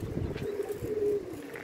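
Pigeons coo in a low, steady murmur, with a few soft wing sounds among them. The birds are close and the cooing is continuous, set against a quiet outdoor background with no talk.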